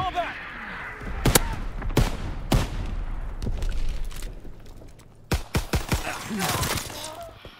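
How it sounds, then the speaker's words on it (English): Sharp booms and blasts from enemy mortar fire crack out in a WWII video game, several isolated hits followed by a quick cluster of impacts, loud and close, with game voices talking between them. "Enemy mortar fire incoming."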